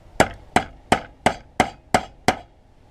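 Seven sharp, evenly spaced hammer taps on a steel chisel driving parts out of an Air Force pilot survival knife, close and loud on a workbench, each strike ringing briefly.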